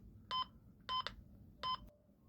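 Three short, clean electronic key tones come from the speaker of an ASELSAN Microtalk Cobra radio, evenly spaced about two-thirds of a second apart, close and clear against a quiet background, followed by a faint click.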